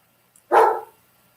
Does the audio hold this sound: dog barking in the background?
yes